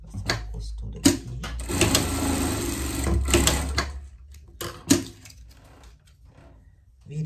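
A sewing machine stitches a seam on pet pajamas in short whirring runs, one long burst in the middle, broken by clicks and handling knocks.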